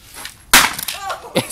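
A wooden chair is smashed apart: a sharp, loud crack of impact is followed by splintering and creaking wood, then a second, smaller crack, all close up within about a second.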